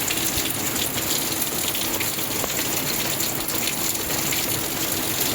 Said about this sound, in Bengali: দেখো এখনও বৃষ্টি চলছে, একভাবে বৃষ্টি হয়ে যাচ্ছে।